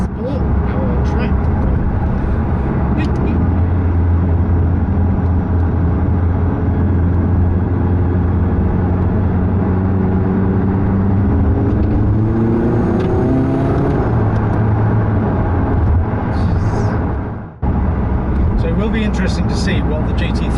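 A McLaren 675LT's engine drones loudly and continuously while driving, its pitch rising and falling as it changes revs, with a person talking over it.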